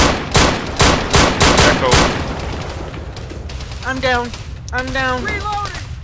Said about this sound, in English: We're taking explosions.